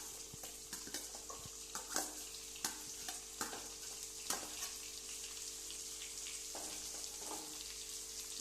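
Onions sizzle steadily as they fry in a pan and are stirred, with a spoon scraping and tapping the pan at irregular moments over the constant close frying hiss.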